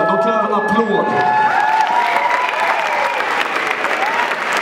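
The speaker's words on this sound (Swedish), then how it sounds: "De är fantastiska, de kräver en applåd." Audience applause with some cheering fills a hip-hop award show hall, a steady loud crowd clapping running throughout without a break.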